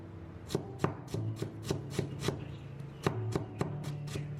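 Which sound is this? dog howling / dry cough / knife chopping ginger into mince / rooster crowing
knife chopping ginger into mince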